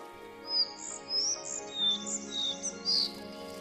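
A collared flycatcher sings in a deciduous forest: a series of high, short chirping phrases repeated at irregular intervals, fairly faint over a quiet background hum.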